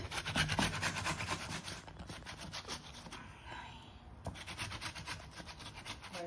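Ripe tomatoes rubbed against a hand grater for a spicy prawn sauce, giving a steady rhythmic rasping scrape, close and moderately loud, with a brief pause in the middle before the strokes resume.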